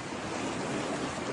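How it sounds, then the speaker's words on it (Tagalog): Floodwater from an overflowing creek rushes through a subdivision in Barangay Bakayan, Cebu City, before dawn, a steady, even roar of moving water, faint and unbroken, with no voices. "Ganito katindi ang baha kaninang madaling araw sa subdivision na ito sa Barangay Bakayan, Cebu City."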